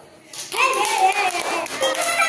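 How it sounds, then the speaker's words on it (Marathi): Schoolchildren in a village primary classroom clap together during an alphabet game. Their excited voices ring out loudly over the short burst of applause. "शाबास, टाळ्या वाजवा."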